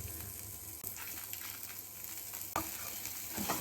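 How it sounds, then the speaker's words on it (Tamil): Small onions (shallots) sizzle in a pan for a Chettinad chicken curry, a steady, close frying hiss broken by a couple of sharp stirring knocks, with no talking. "நான் வந்து ஒரு 30 வெங்காயத்தை போட்டுக்கிறேன், சின்ன வெங்காயம்."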